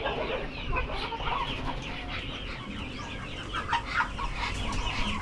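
Several chickens cluck and chatter softly at a distance, scattered calls overlapping against a low rumbling background.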